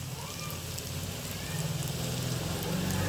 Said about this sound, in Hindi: ये अब आपको हम फ्राई करके दिखाते हैं